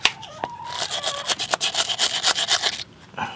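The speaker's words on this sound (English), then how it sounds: "Now when I scrape this off, it'll go back to being a copper." A wire brush scrapes soot off a copper part of a car starter motor, a close, loud run of rapid rasping strokes in steady rhythm.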